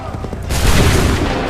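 A musket volley crashes out in Assassin's Creed 3, a loud, dense burst of massed shots that swells suddenly and rolls on with a rumbling tail, with shouted commands nearby.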